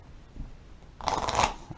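Playing cards riffle and snap together in a quick burst of shuffling, close and crisp, after a moment of quiet rustling.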